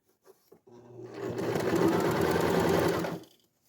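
A Janome embroidery sewing machine stitches a 3D puff design onto a shirt, starting up and running in a steady, close, continuous whir for about two and a half seconds before winding down.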